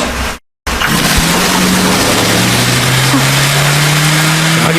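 A car engine revs and accelerates in a chase scene from a dubbed South Indian action film, a loud, steady rising drone after a brief cut of silence, with no talk over it.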